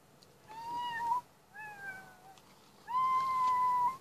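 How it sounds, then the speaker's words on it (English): Tiny kittens in The Sims 4 give three clear, high meows close up, separated by short pauses, with the last one drawn out and loudest, no talking over them. "Adorable tiny kittens."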